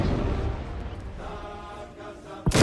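Large cannon shot impacting armor in the Trailmakers video game, a heavy rumbling decay from an earlier blast fading out before a sharp new boom hits at the very end, no talk.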